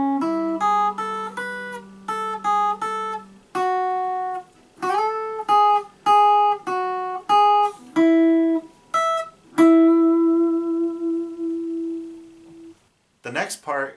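A guitar riff plays back as a run of clean, distinct single notes, plucked one after another in a steady melodic line with a longer held note near the end, then a brief burst of other sound; no speech over it.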